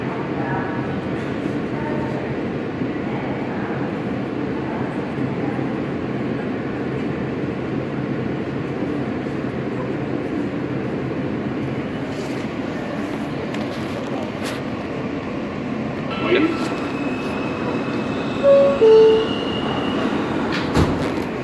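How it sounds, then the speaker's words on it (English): An Alstom R160A E subway train rumbles past in a steady, loud roar with faint wheel clicks, ending in a few higher squeals and clunks; no voices are heard. "Another R160 E train."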